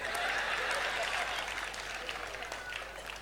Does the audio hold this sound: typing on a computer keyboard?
no